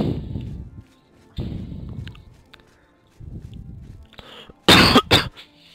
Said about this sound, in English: Got a bit of a cough at the moment.